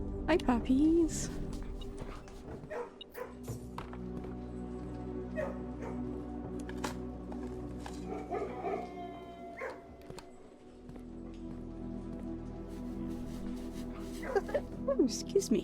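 Puppies in a kennel in the video game Blue Prince yip, whimper and bark in short bursts while a person talks over them throughout.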